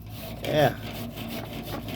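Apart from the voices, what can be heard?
scrubbing rust off a metal grill grate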